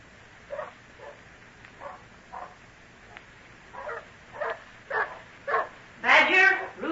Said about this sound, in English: Stop that barking.